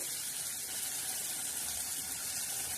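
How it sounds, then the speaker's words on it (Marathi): Hot water poured into a pot while cooking rice kheer in a home kitchen, a steady continuous watery rush with a bright hiss that runs evenly throughout the short pour. "थोडं पाणी टाकणार आहोत गरम"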